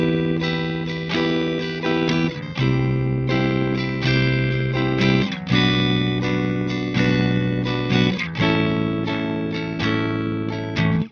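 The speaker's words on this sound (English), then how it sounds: "you can keep some of your dry signal and add that robotic out of tune feel" Synth run through a ring modulator blended with the dry signal, giving a robotic, out-of-tune, metallic tone over a continuous sequence of sustained notes with shifting pitches, loud and unaccompanied.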